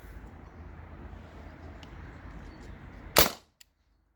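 A modified T4E TR50 air gun running on a lower-pressure HPA tank with no restrictor fires a 2.8 gram aluminum ball, giving a single loud, sharp crack that cuts off abruptly after steady background hiss.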